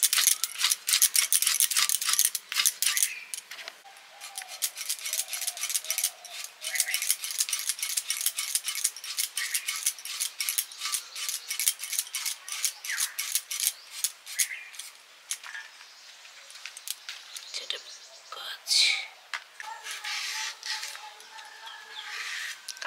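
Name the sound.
knife cutting bitter gourd for dal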